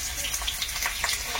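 Potatoes frying in a pan at a rainy Sundarban home kitchen, a steady close sizzle and hiss running throughout with faint stirring scrapes.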